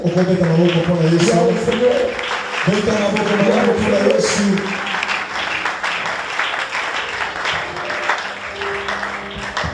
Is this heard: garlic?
no